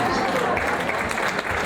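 An audience claps steadily for a Spanish Mustang's bow in a round pen, a dense, continuous patter of clapping heard fairly close throughout the short moment.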